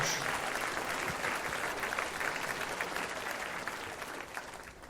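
A comedy show audience breaks into a round of applause, thick continuous clapping from many hands that holds strong and then fades a little toward the end.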